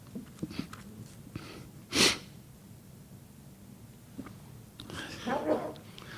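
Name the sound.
sneeze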